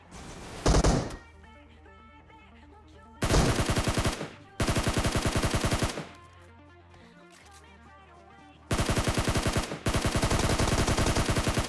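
Bursts of automatic gunfire in the battle-royale shooter PUBG, several loud rapid-fire volleys of about a second each, separated by stretches of quieter game background with no talking.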